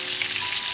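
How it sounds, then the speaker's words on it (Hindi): Beef chapli kebabs fry in oil over a medium flame, giving a steady, close, dense sizzle with no voices. "मीडियम फ्लेम पे मैं इसको फ्राई कर रही हूँ, ना बहुत तेज ना बहुत हल्का।"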